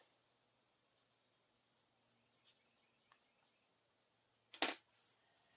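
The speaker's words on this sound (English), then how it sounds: "Let's write May on it." A pen writes briefly on a paper cash envelope in a quiet room: a few faint scratches, then one short, louder scribble.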